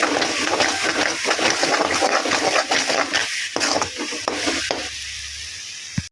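Curry leaf pickle being sautéed in plenty of oil, a loud dense sizzle with brisk, repeated spoon scraping that thins toward the end, close and continuous with no talk.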